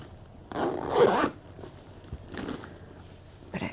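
Zip pocket on a burgundy tote bag being zipped, one longer rasping pull followed by two shorter zips, close and soft with no talk.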